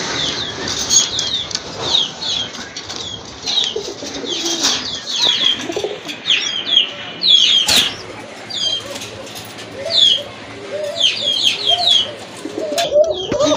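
Pigeons kept for sale coo softly and call in bursts, with sudden loud wingbeats from birds flapping close by and a low background murmur.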